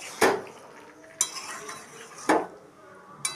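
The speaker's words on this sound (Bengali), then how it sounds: "আগে থেকে ভেজে রাখা আলুগুলো আমি দিয়ে দেব। ভালো করে মশলার সঙ্গে মিশিয়ে নেব।" A spoon stirring chicken and pre-fried potatoes with masala in a pan, four sharp metallic scrapes and clinks at roughly one-second intervals over a faint sizzle, close by, with no talking.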